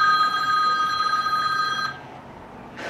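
An incoming call rings as a steady electronic telephone tone, loud and close, for about two seconds before it stops into quiet room noise.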